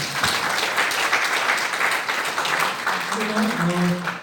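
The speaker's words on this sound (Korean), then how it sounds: "동의하시면 큰 박수 부탁드리겠습니다." A crowd applauds at a meeting in the National Assembly members' hall in Yeouido, a dense wash of clapping that carries on throughout, while a voice begins speaking over it near the end.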